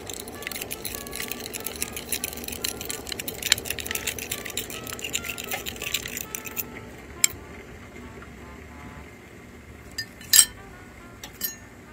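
Essential oil and salt mixed in a bowl, with light continuous scraping and clinking of a utensil against the bowl, then a few sharper clinks near the end, close and fairly quiet.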